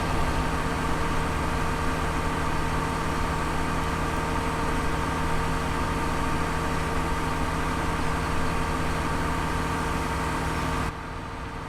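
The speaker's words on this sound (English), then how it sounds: "I realized we left that tractor on." A tractor engine idles in the Farming Simulator 2017 game, a steady, dense drone with constant low hum that drops slightly in level near the end.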